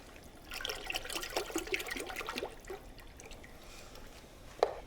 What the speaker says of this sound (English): next, 8 cups of milk and 4 cups of cream.